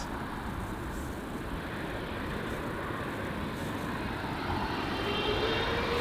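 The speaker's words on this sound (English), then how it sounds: "777 out of here. Let's listen to the G90s." A Boeing 777 with GE90 engines departs from LAX, its broad jet roar steady and rising slightly toward the end, with a faint high whine climbing over the rumble, alone without voices.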